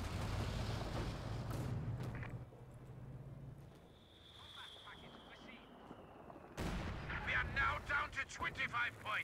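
A heavy cannon shot from an SU-85 tank destroyer in Company of Heroes 2 booms in the opening seconds, followed by a quieter lull and then a rumbling burst of distant battle noise, with a voice talking over parts of it.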